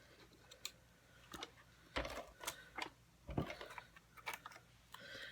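An ATG tape gun lays adhesive strips onto a handmade card, heard as faint, scattered clicks, ratchety taps and short rasps close by in a quiet room.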